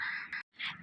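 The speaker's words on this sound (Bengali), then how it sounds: "বসন্ত এসে গেছে এই যে কোকিল ডাকছে" A koel calls in spring, giving two short, bright, nasal calls separated by a brief gap, fairly close and clear against a quiet background.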